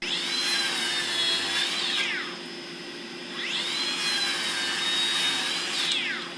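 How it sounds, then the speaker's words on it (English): A Makita KS003G 125mm cordless 40V brushless circular saw, blade-left, runs up to speed twice with a high whining tone, each run lasting about two seconds before winding down, heard alone and fairly close. "I was able to buy this KS003GZ Makita 125mm circular saw that is blade left"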